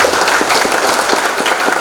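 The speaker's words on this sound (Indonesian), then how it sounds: "Tepuk tangan untuk top leader kita Bapak Sausi Matuka." Audience applause for a top leader at a multi-level business leadership training session, a dense, steady wash of clapping from a crowd lasting a couple of seconds without a break.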